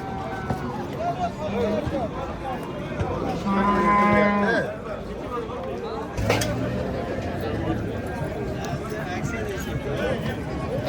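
Cows moo loudly at a busy livestock market, one long low call standing out over a steady crowd murmur and people talking nearby.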